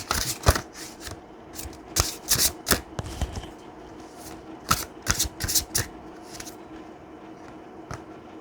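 Oracle cards shuffled by hand for a reading, a close, crisp series of riffling bursts and papery flicks coming in quick clusters with brief gaps, with no talking.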